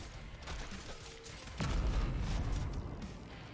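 In the video game Arknights, a deep, booming cannon blast hits partway through, followed by sustained rumbling and crackling gunfire-like noise, loud and continuous to the end.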